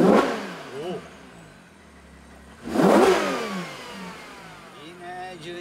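A Ferrari Purosangue V12 engine revs hard twice, each burst roaring up then falling away, with a lower idle rumble between them.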